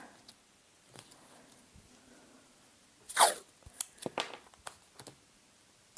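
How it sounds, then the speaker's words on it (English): Adhesive tape is pulled from a roll and pressed onto joined A4 paper sewing-pattern sheets, a short sharp rip followed by a few quiet crackles and taps, close and alone in a quiet room. "And then I'm just going to tape."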